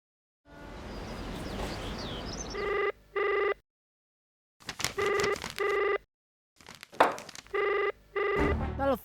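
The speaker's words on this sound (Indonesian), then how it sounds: "Telepon ini siang malam selalu saja berdering." A telephone bell rings in several short repeated bursts, with a busier noisy stretch at the start and gaps of silence between rings, loud and close in a domestic drama scene.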